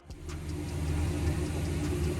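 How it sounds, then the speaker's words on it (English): A 2003 Ford F-150 pickup, after an idle air control valve replacement, idles with a steady, low rumble, continuous, close and even, with no voices over it. "So far the truck is idling so much better."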